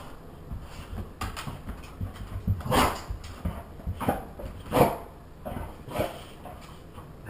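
A dog whimpers and gives short, soft barks in uneven bursts close to the microphone, with a pet parrot nearby in a quiet indoor room.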